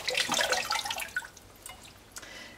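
Water rinses over a cyanotype print, a soft trickling and dripping that is strongest in the first second, then thins to faint drips and a quiet wash, with no talking.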